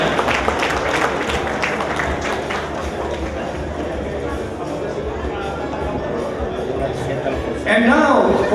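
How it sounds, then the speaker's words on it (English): Applause for the first runner-up province at a regional development awards ceremony, steady crowd clapping filling the space with a louder burst near the end. "Another round of applause for our first runner-up"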